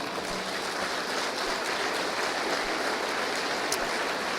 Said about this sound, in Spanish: Dele otro aplauso al Señor.